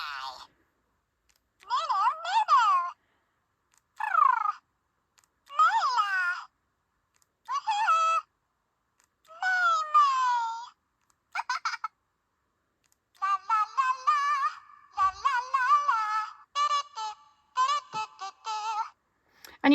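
A Wave 4 Furby Furblets electronic toy lets out a series of short chirpy, meow-like synthesized vocal bursts in quick phrases separated by brief pauses, loud and close with no other sounds around them.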